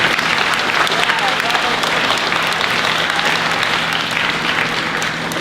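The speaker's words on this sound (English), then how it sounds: "Round of applause." An audience at a junior high school year-end awards ceremony applauds in a steady, dense wash of clapping that holds at full strength throughout, with scattered voices underneath.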